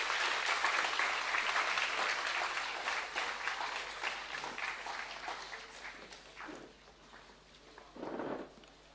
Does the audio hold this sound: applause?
yes